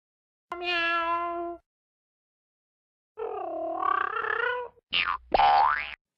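Cartoon cats meow in three separate, clear, tonal calls: a long rising meow, then a wavering one, then two short bending cries, each alone against silence.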